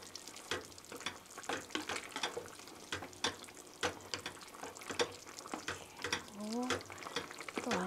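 Chicken tomato soup stirred in a pot gives quiet scraping and sloshing strokes in an uneven rhythm, close by and fairly faint, with a brief voice near the end.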